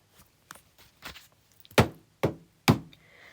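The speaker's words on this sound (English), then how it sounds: "I hear a knocking at the south entry." Knocking at a door in a staged reading of Shakespeare's Macbeth: a few light, hollow taps build to three heavy, booming knocks spaced evenly at the end, each ringing briefly in a quiet space.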